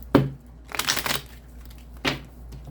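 Tarot cards being shuffled by hand, a few brisk riffling bursts of papery crinkle with short pauses between them, close and fairly soft with no talking.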